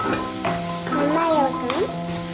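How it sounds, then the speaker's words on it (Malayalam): Tomatoes frying and softening in a pan for a duck roast are stirred, a steady close sizzle with scraping movement, while a voice talks faintly over it. "ഒന്ന് ഇളക്കി കൊടുക്കുക."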